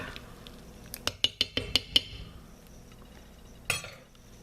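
Crockpot chicken pot pie soup being dished up, a quick run of sharp ladle or spoon clinks against crockery, then one more knock after a pause, close and clear with no talking.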